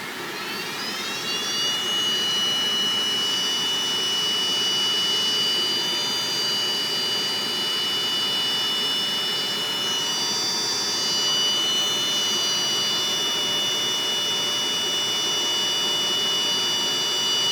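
A WeCreat laser cutter cutting acrylic gives a steady, loud machine whine with a high-pitched tonal hum and broadband airflow noise, running continuously without pause and with no voices.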